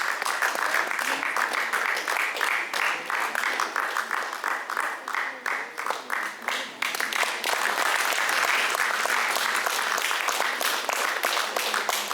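Dense, sustained applause from an audience at an award ceremony fills the space for recipients being honored, loud and even throughout with only a brief dip in the middle.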